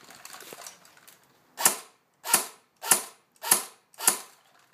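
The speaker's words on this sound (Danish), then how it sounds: "Så vi skyder lige på semi-automatisk" An AK-47 electric airsoft gun fires five sharp semi-automatic shots, evenly spaced about half a second apart, each a crisp close snap, following a stretch of faint mechanical handling.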